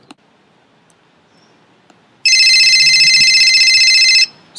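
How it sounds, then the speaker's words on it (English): A telephone rings in one loud, continuous electronic burst of about two seconds after a quiet stretch, then cuts off. "It's the phone."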